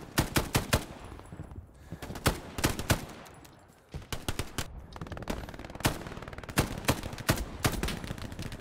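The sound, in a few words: gunshots from FG42 rifle in video game Hell Let Loose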